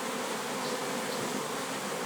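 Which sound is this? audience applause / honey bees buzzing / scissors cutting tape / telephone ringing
honey bees buzzing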